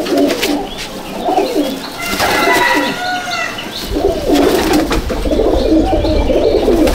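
Pigeons coo repeatedly in a home loft at Icchapur, North 24 Parganas, where tagged racing birds are kept; the soft throaty calls come close and steady, with chirps and some wing flutter around them.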